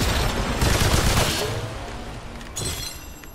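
Bursts of gunfire from a weapon in the video game Remnant 2, a dense, loud volley at the start that thins into scattered shots with a short sharp burst near the end.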